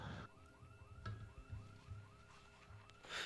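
A car alarm wails in Project Zomboid, its repeating rising whoops cycling steadily for several seconds at a moderate distance, with no one talking.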